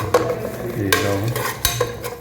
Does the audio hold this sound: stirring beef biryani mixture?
yes